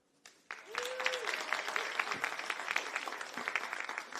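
An audience at a Greensboro city end-of-year address applauds city employees, steady clapping that swells in quickly after a brief pause and continues at moderate level, with a short tonal sound early on.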